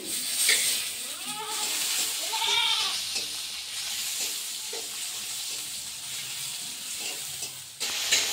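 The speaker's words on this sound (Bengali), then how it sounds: "এই পটলটা হালকা করে ভেজে নিয়েছিলাম, তারপরে দেখো মশলা দিয়ে এটা কষিয়ে নিচ্ছি" Pointed gourd (potol), already lightly fried, sautés with spices in a pan, sizzling steadily under intermittent stirring scrapes, with a few brief vocal-like sounds in the background.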